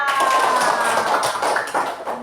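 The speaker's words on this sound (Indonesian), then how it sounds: "Tepuk tangan untuk Mbak Aisyah." Elementary school students in a classroom give a short burst of scattered clapping for a classmate, close by and lasting about two seconds.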